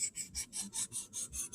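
A pocket knife is drawn back and forth across a sharpening stone, eight quick, evenly spaced rasping strokes in a steady rhythm, close and fairly soft, with no talking.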